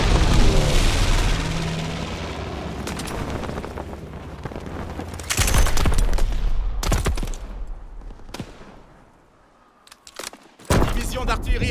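Enemy artillery barrage in Call of Duty WWII, with dense overlapping blasts and rumbling booms that swell, briefly drop away, then return as loud sharp impacts near the end, with radio-style voices talking over parts of it.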